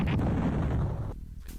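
A boss attack explosion in the DOS game Duke Nukem 2, heard as a loud, dense, low rumbling burst lasting about a second, then quickly dropping off into a brief tail with a small pop at the end.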